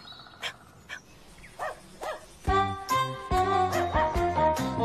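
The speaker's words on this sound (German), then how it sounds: "Alle sagen, da kommt Keks, ein ganz besonderer Hund" Dog barking a few times at a distance, then music with a sung melody takes over, with bright jingling accents and a soft panting texture underneath.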